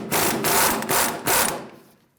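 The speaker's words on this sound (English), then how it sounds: "we're going to use a 22mm socket on an impact to remove the inner tie rod nut" An impact wrench with a 22mm socket rattles against the inner tie rod nut on a 2005-2015 Toyota Tacoma, several short hammering bursts close to the mic with no talk.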